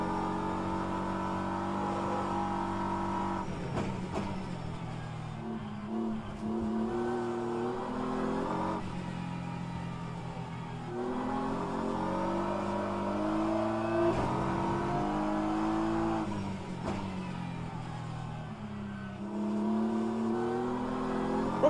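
A race car engine in rFactor 2 at the Interlagos circuit rises and falls in pitch through repeated revving and gear changes. The steady, droning engine note is heard alone throughout.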